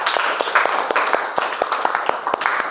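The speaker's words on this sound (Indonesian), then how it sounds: "Kita berikan tepuk tangan untuk diri kita sendiri." A small group claps for themselves at the close of a teacher-training session, the individual hand claps sharp and distinct in a lively, uneven rhythm throughout.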